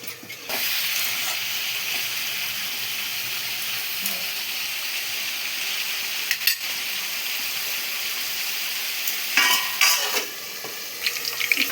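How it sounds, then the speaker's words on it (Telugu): Dried red chilies crackling in a few spoons of hot oil in a pan, a steady close sizzle broken by occasional sharp clinks and scrapes of a spoon stirring. "ఇక్కడ ఎండుమిర్చిలు అయితే ఫ్రై అయినాయి"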